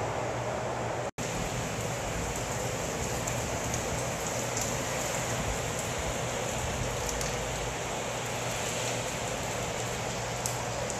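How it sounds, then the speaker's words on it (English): Steady rain falls on a rainy day in Merida, Mexico, a dense, continuous hiss with no talk, broken only by a very brief dropout near the start. "on days like this when it's freaking raining"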